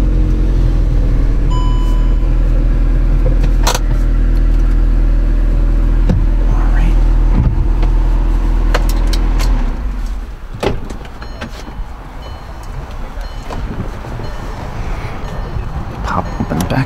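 A 2006 Volkswagen GTI 6-speed hatchback with 91,000 miles idles with a steady low rumble that shifts after about ten seconds, with scattered clicks and handling noises throughout.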